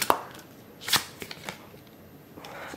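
Tarot cards are handled and shuffled up close, with a few sharp flicks and riffling bursts separated by quieter pauses.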